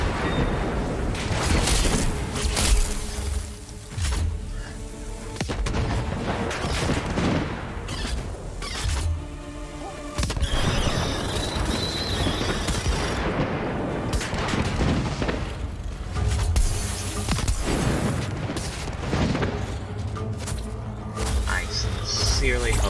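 Grenade blasts and gunfire crackle in a Dauntless gameplay stream, with booming explosions and rapid bursts layered over game sound throughout, while a player talks intermittently.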